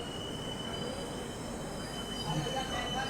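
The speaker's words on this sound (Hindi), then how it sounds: "ये ब्रेक टेस्टिंग है जी" Brake testing on a train at Rourkela station, a steady grinding, squealing rail noise with a thin high tone running throughout, loud and continuous, with faint voices in the background.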